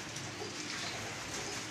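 Breeder pigeons coo steadily in a loft, soft throaty calls blending into a continuous murmur over a broad hiss, close and even in level throughout.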